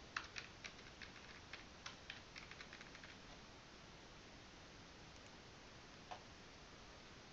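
Sparse, quiet clicks of keys on a computer keyboard as a password is typed during a login attempt, the taps irregular at first, then thinning out to a single late keystroke over faint background hiss.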